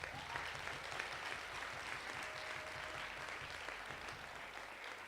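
Steady applause fills a hall at a graduation and white coat ceremony, many people clapping together in a dense, unbroken roar heard from the audience area for the full few seconds.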